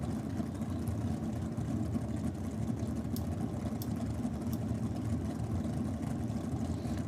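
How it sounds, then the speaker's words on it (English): A drag racing car engine starts up and settles into a steady, loud rumble at a drag strip, continuous throughout with a few faint clicks high above the drone. "It actually sounded like one of the cars starting up below us"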